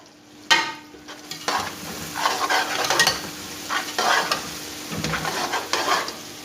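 Tomato masala stirred in a frying pan, with steady sizzling and irregular scraping strokes of a spoon against the pan, close and fairly loud, no voices.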